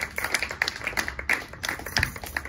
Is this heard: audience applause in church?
yes